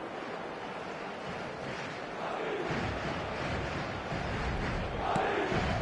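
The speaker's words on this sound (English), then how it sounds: "it certainly got the crowd going" Stadium crowd noise in the PES football video game, a broad steady roar that swells slightly partway through and holds to the end, with no distinct voices.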